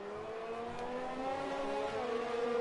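Formula 1 race cars in the F1 2020 game at the French circuit in wet conditions, a continuous high engine whine with slight revving as cars run close together in the slipstream.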